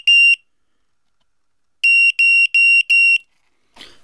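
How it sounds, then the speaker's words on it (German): The piezo buzzer of a homemade networked smoke detector gives one shrill tone, then after a pause four quick tone bursts in a row. Loud and close, followed by a faint rustle. "der Buzzer ist dran, wie man unschwer hören kann"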